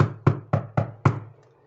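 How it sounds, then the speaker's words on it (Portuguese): Five sharp knocks on a bedroom door, close and loud, in an uneven rhythm with a short ringing decay after each one and quiet at the end. "bateu na porta do quarto dele assim"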